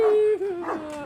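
A large dog gives a long wavering howl, then a second mournful howl, loud and close, at a house beside a walking route past mansions.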